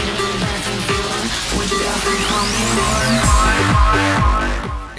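A DJ mix played through VirtualDJ with the EQ boosted far too high, giving a loud, dense electronic track with a thumping steady beat and a rising then falling sweep effect, heard alone without talk.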